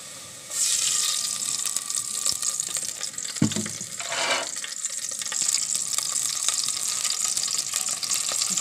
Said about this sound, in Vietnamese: Mình sẽ xào vào cái nồi này